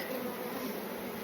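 Honey bees swarm over a brood frame as the hive is opened for a fall inspection, making a dense, continuous buzzing hum. It is close, fairly soft and steady, with no voices.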